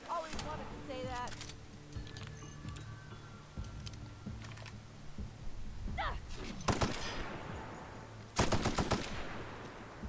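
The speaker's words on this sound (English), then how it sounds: "I am not hitting any of these shots." Gunfire in The Outer Worlds, a series of sharp, rapid shot bursts and clicks spaced unevenly through the stretch, with a player speaking over parts of it.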